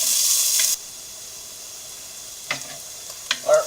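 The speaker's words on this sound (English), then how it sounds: "Now we just want this diced onion to soften" Diced onion for clam chowder sizzles loudly in a pot for under a second, then drops to a quiet hiss with a few soft stirring clicks.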